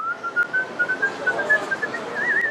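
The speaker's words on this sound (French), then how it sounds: "On l'appelle le siffleur, c'est son métier." A professional whistler whistles a tune in a steady, clear, close melodic line. The notes come in a smooth flowing rhythm and end in a quick warbling trill, with a faint noisy background and no talking.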